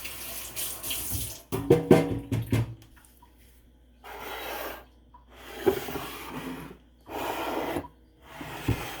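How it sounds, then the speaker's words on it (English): Running tap water splashing over a rubber spatula as it is washed in a sink, in several bursts with quiet gaps and some clattering handling. "I'm gonna wash my rubber spatula and bring that back."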